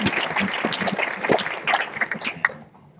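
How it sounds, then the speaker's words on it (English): Audience applause at a health policy coalition breakfast, dense clapping mixed with murmuring voices that thins out and fades toward the end. "a big round of applause"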